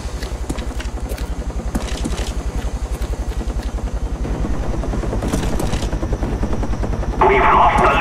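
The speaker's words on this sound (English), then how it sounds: "Friendly care package inbound." Care package helicopter in the video game Call of Duty Black Ops: loud, close rotor thudding in a fast steady beat that builds, with gunfire-like bursts mixed in and a burst of noise near the end.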